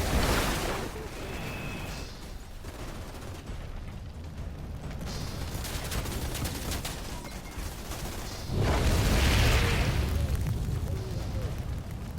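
Ability explosions and gunfire in the shooter game Outriders: dense, continuous roaring blasts and crackling combat noise, swelling into a heavier booming burst near the end.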